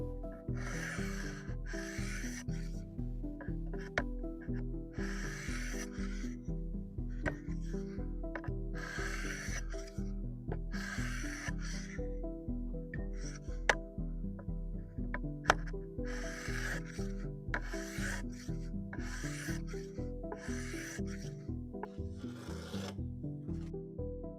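Repeated rasping strokes of a blade across a sharpening stone, rhythmic scratching bursts back and forth, close and fairly quiet, no talking.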